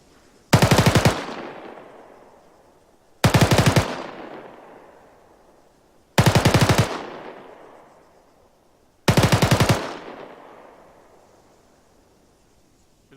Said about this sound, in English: I'm going to hold onto that mouse, that trigger button, until I know I release at least a 3 to 5 round burst